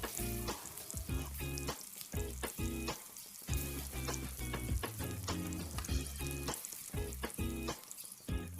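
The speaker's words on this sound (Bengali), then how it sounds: "ওই তেলে আবার আরও যে কটা ছিল পিস সেই কটা ভেজে নিচ্ছি" Chicken pieces for chili chicken frying in hot oil give a loud, crackling sizzle close up, broken by bursts of stirring and spattering, with no voices.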